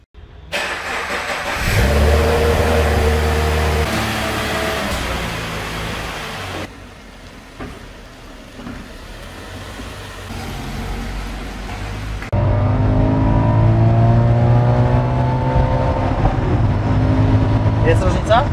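A Toyota GT86 fitted with an SU2 turbo kit accelerates hard with a loud, rising engine roar, eases off briefly, then pulls again with a strong climbing drone, with voices in the car.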